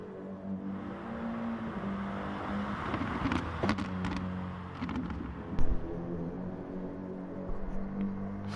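A race car engine drones steadily on its out lap in Gran Turismo during GR4 pink-lobby qualifying, holding a sustained mid-pitched hum, with brief rises and a sharper bump midway.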